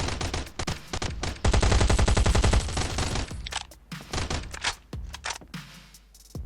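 Rapid bursts of automatic gunfire in Last Island of Survival crackle loudly, a sustained volley in the middle followed by scattered single shots and thuds, with game-like sound effects.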